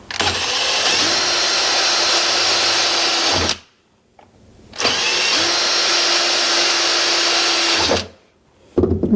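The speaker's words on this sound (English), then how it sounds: "I'm going to drill a hole about here, drill another hole about there." A power drill bores holes through aluminum on an RV window shade fitting, whining steadily in two long runs of about three seconds each, separated by brief quiet pauses.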